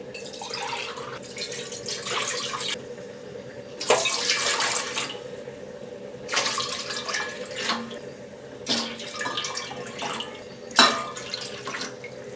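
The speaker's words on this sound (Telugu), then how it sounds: "ఐదు గ్లాసులు నీళ్లు పోసుకోవాలి" Water runs from a tap in several bursts, splashing into a cooking pot, with short pauses between glassfuls and quiet gaps.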